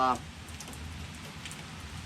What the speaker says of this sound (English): It's raining out today, and quite chilly actually.